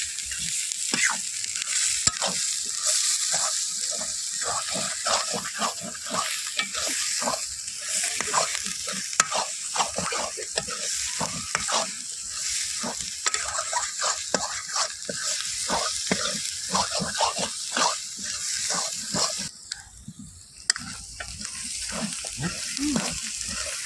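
Masala fries in oil in a pan for a chicken curry while a spoon stirs it, giving a steady crackling sizzle broken by frequent scraping strokes, close and continuous.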